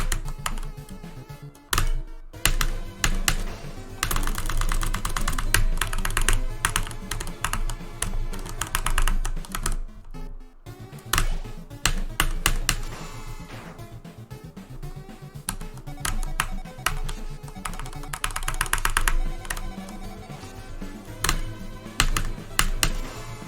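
Rapid, continuous typing on a computer keyboard during a game of Undertale, dense clicks and taps with brief pauses, close and fairly quiet, with no talking.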